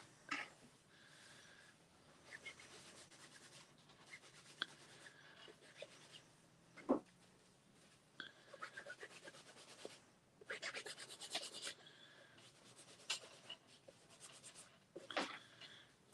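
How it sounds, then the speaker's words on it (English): Ink is rubbed onto paper for a mixed media art piece in soft, intermittent scrubbing strokes, quiet and close, with irregular bursts of rasping friction and pauses between them. "let's just... rub some ink all over that one"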